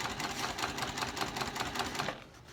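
A sewing machine stitches a tote bag strap on a Wide Taisteal Tote, running in a steady, close, rapid rhythm for about two seconds before stopping abruptly.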